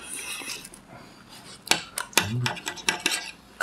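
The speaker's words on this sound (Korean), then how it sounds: "내가 썰어 드릴게" A knife and metal cutlery scraping and clinking on a plate while a homemade rolled pork cutlet is sliced, a few quick close taps and scrapes at a moderate level with no talk.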